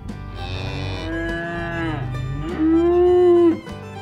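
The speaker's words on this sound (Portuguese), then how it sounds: "As vacas são animais que vivem na fazenda." Cattle on a farm moo in long, drawn-out calls, several overlapping lows with a louder, close bellow near the end, with no voices alongside.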